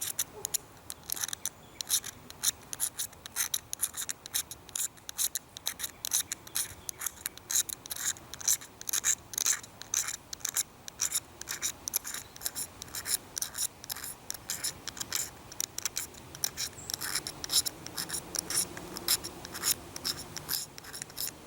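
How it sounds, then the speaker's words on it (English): A hacksaw blade scrapes shavings off a magnesium fire-starter block, a continuous fast rasping, scratching rhythm up close at moderate level, with no voices. "if you have the hacksaw blade, you just want to scrape, cut. You're just making as many little shavings as you can."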